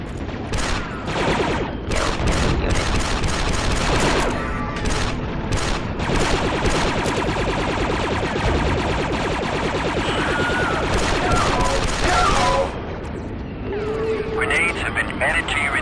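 Sustained automatic fire rattles from an enemy gun emplacement in Republic Commando, loud and continuous for about twelve seconds before cutting out, with a voice speaking over the shooting.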